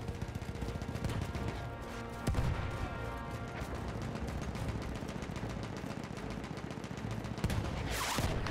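Rapid machine-gun fire and explosions from the video game Battlefield 1, dense continuous bursts of shots with a few heavier impacts, steady and loud throughout with no pauses.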